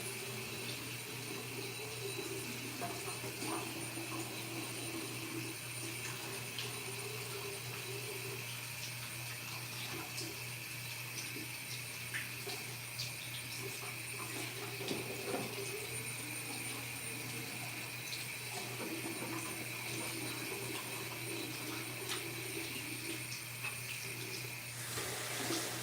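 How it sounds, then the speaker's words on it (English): Hands are washed under a running tap, a steady, fairly quiet rush of water that continues evenly for the whole stretch with no talking. "I'm gonna wash my hands."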